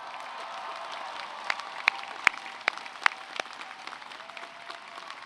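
A large audience at a university commencement ceremony applauds, steady broad clapping at moderate distance with a few sharp, louder nearby claps standing out in the middle of the stretch.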